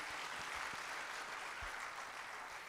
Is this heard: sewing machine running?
no